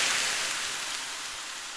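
Vermouth hits a very hot pan and sizzles as it deglazes, a loud, broad hiss that starts at once and eases slightly over a moment, with no voices.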